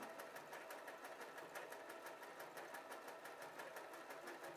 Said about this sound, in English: The machine starts sewing, and every few stitches the needle moves over to the left to baste the hem to the garment.